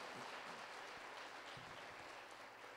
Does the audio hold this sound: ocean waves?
no